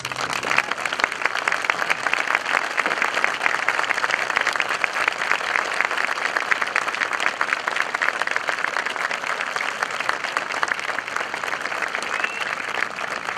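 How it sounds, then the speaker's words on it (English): A graduation audience gives a sustained round of applause for scholarship recipients at a high school commencement, steady dense clapping throughout. "I would like all the scholarship recipients to stand for a round of applause."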